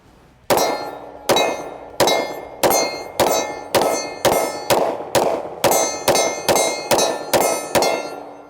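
Pistol rounds from a Daniel Defense H9 strike a steel target in a steady run of about fourteen sharp metallic clangs, each ringing out briefly before the next, loud and evenly spaced.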